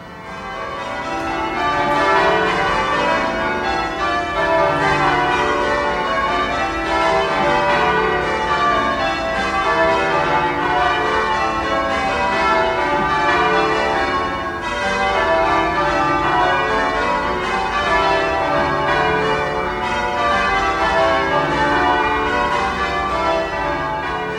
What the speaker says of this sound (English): all 10 of the bells will pull hand stroke in one order